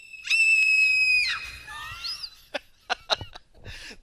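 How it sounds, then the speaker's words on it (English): A character in the video game Vandal Hearts lets out a long, shrill, piercing scream that breaks off into wavering cries, followed by a few short, sharp bursts of noise. "That was the greatest scream I've ever heard."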